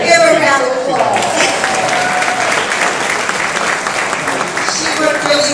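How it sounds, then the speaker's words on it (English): Audience at the Washington Informer's 50th anniversary gala at the Carnegie breaks into a round of applause, a full sustained wash of clapping from a large room, with a voice speaking faintly near the start. "Give her a round of applause."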